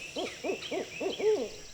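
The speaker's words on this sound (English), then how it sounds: "How often do you see a barred owl waiting around in the swamp?" A barred owl hoots in a Florida swamp at Fisheating Creek, five quick rising-and-falling calls in a row, close and clear, the last one drawn out, over a faint background hiss.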